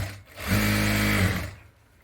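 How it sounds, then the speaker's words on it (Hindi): A sewing machine runs in one short, steady burst, a close mechanical whir sewing a straight line of stitches along a blouse seam while the blouse is being fitted, with quieter handling before and after. "यहाँ से हम सीधी यहाँ पे सिलाई लगाएंगे।"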